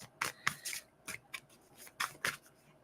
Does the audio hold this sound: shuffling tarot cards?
yes